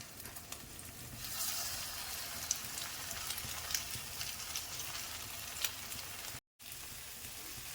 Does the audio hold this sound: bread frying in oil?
yes